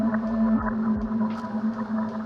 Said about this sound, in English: I'm going to be using a spacey alien sound as the bass layer.